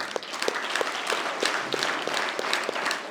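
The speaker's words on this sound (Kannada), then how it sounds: "ಚಪ್ಪಾಳೆ ಹೊಡ್ರಿ ಎಲ್ಲರೂ" Participants at a yoga camp clap together in a rhythmic group round of applause, a steady burst of many hands close by, running for a few seconds without talk.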